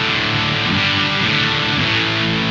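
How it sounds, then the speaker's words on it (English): Thick, saturated fuzz-distorted electric guitar through a Zoom Ultra Fuzz UF01 pedal at full gain, a dense buzzing sustained chord ringing out loud and steady with no voices. "Really thick, fuzzy distortion"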